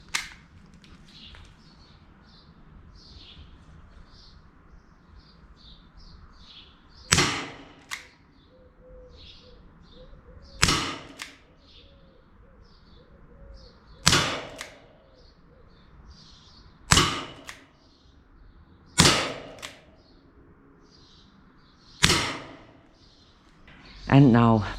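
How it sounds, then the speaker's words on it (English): Steel BBs fired from a BB gun at a target 5 meters away: six sharp, loud cracks of impact spaced a few seconds apart, with quiet background and faint intermittent chirps between shots. "first we're gonna test the steel BBs from 5 meters away"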